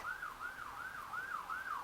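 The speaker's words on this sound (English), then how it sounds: "Oh, there goes a siren." A wailing siren rises and falls in a steady repeating cycle, fairly distant and continuous, with no voices.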